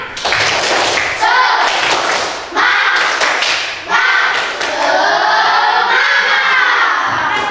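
A group of schoolchildren in a classroom clap in a fast rhythmic pattern while chanting and shouting an Indonesian 'tepuk semangat' clap chant together, loud and close.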